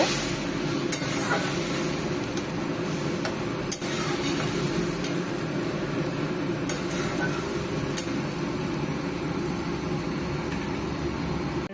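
Nut paste and milk get stirred into a pointed gourd curry in a pan, a steady soft sizzle with occasional spoon scrapes and light ticks against the vessel, close and continuous, without talk.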